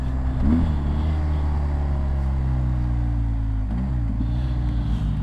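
A BMW R1250GS motorcycle engine drones steadily up close, its pitch dipping twice as the quick shifter snaps through a gear change, with a steady rumble throughout and no one talking.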